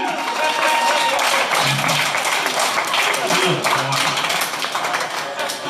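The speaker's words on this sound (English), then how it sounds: "Let's have a round of applause for Brandy." A comedy club crowd at Beauty Bar gives a round of applause, with dense continuous clapping mixed with cheers and scattered voices throughout, loud and close.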